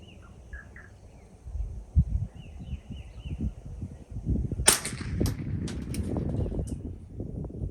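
A rifle fired through a Vector Paragon 4-20x50 scope at a splatter target gives one sharp, loud crack with a short decaying tail, preceded by quieter handling and outdoor ambience.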